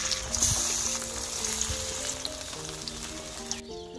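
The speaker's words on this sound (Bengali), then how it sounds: "তেলের উপরে পাতা দিয়ে দিব।" Ash gourd leaves coated in sesame paste sizzle steadily in hot oil in a karai, a close, continuous frying hiss with a few soft crackles.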